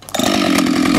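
A chainsaw bites into a tree trunk, roaring loud and steady at full throttle after a brief idle start, close to the microphone with no talking.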